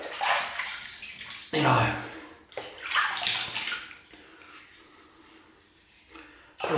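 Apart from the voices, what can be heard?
water rinsing a razor while shaving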